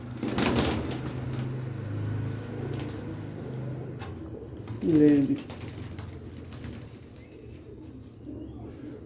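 Pigeons near the listener give a soft throaty coo and then a brief burst of flapping wings, while someone talks over low background noise.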